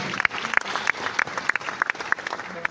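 Applause from a conference audience after a business presentation, a moderate round of clapping with distinct individual claps standing out, steady and fairly close throughout.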